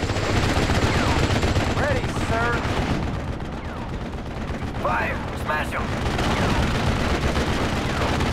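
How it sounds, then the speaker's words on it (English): Gunfire from the World War II strategy game Steel Division: Normandy 44, a dense, continuous rattle of shots and distant booms under ongoing battle noise, with brief whistling chirps cutting through. "We're taking heavy fire."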